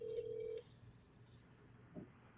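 A telephone call is placed: a short, clear dialing tone sounds over the thin line, then the connection goes quiet with faint line noise and a brief soft blip.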